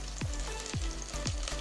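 Onion, garlic, cumin, pepper and fenugreek sauté in a pan for a fish curry, giving a steady close sizzle with a few soft stirring scrapes and no talk.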